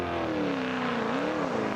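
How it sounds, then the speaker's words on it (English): A Jaguar race car engine restarting after a spin, its note climbing and wavering as it revs steadily, loud and close, with no one speaking. "He's got the car started"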